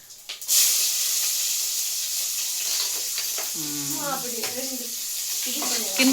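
Garlic frying in hot oil in a pan, a continuous close sizzle and hiss with a loud splash of crackling as it goes in, while voices talk briefly over the frying.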